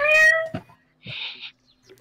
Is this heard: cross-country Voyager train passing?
no